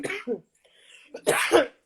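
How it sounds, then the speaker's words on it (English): Several harsh coughs in two bursts separated by a short pause, close and fairly loud, with no talking. "I'm sorry, this cough is so persistent."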